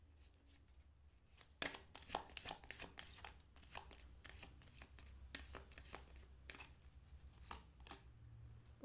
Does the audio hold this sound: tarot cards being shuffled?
yes